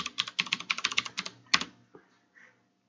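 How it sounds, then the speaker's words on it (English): Quick, close clicks of a computer keyboard as a password is typed while setting up a Raspberry Pi, about a dozen crisp keystrokes in a fast run, then a firm Enter press and silence. "Type in your password again."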